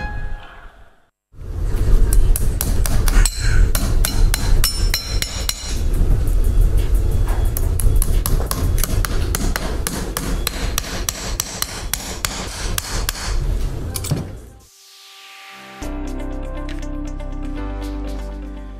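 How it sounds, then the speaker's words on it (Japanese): Farrier hammering horseshoes onto the hooves of a Banei draft racehorse, which pulls a sled: rapid, ringing metallic hammer blows in dense repeated bursts, loud and close, then a brief pause and a different, steadier clanking near the end. "今週放送したのは蹄鉄をつける音でした"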